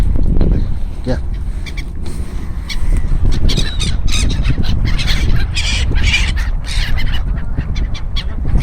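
Seagulls squawking loudly and continuously at close range while being fed corn by hand, the harsh cries overlapping one another as people talk nearby.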